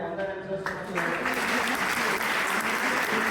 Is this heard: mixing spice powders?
no